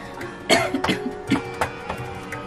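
A person coughs in a short series of about five dry bursts spread over two seconds, fairly close and with no talk over them.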